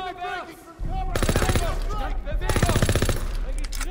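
Rapid automatic gunfire from a weapon in the video game Call of Duty WW2, loud and close in two sustained bursts separated by a short pause, with game sounds and chatter underneath.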